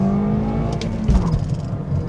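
A 2021 Toyota Corolla Hatch with a manual gearbox accelerating hard under heavier throttle, its engine note rising steadily and loud, with a brief shift dip midway before the revs climb again.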